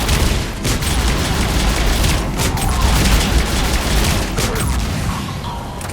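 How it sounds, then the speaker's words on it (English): Heavy cannon fire and explosions from the Mass Effect 3 game, a dense, continuous rumbling barrage of booms and blasts that stays loud from start to finish with no talk. "Those cannons have to be stopped."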